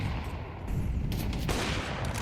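Counter-Strike gunfire in an esports match rattles in dense, overlapping bursts. Sharp shots crack over a steady background and rise in intensity partway through.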